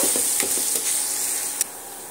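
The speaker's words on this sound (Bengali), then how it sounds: "সেই তেলের মধ্যে আমি পেঁয়াজটা ভালো করে লাল লাল করে ভেজে নেব" Onions fry in hot oil for egg biryani, giving a loud, steady sizzle close by, with a few soft stirring scrapes and one sharper clink near the end.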